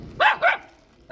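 Dogs bark outdoors: two sharp, close barks in quick succession, then a third bark beginning after a short pause, with no talking.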